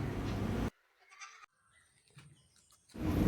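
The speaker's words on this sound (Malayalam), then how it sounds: "ഈ വീഡിയോയിൽ കാണുന്ന ഒരു നാടൻ ആട് വിൽപ്പനയ്ക്ക്" A native goat offered for sale at a farm in Kollam gives a short bleat midway, preceded and followed by louder, broad background noise.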